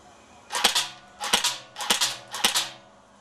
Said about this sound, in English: this one's got electric blowback